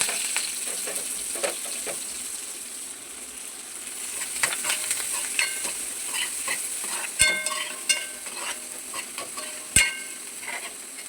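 Sliced onions fry in a bowl-shaped pan with salt and turmeric, giving a constant crackling sizzle with spatula scrapes and sharp metallic knocks that grow busier toward the end, and no voices.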